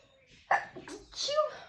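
A single abrupt sneeze close to the microphone, followed by a short breathy exhale.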